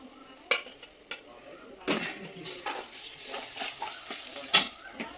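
Ginger, garlic and onion paste fries in a pan for chicken with methi, a soft sizzle broken by scattered scrapes and clinks of a metal spoon against the pan, close and moderately loud.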